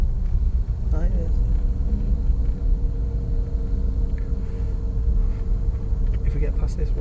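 A car driving slowly along an icy, snow-covered road in a snowstorm near Bury, Greater Manchester, heard from inside as a constant low engine rumble and road drone, with a few faint tonal whines near the end.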